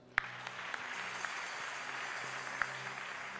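A congregation claps during a church service, with steady, dense applause and a few sharper claps standing out. The sound is fairly close and fills the room.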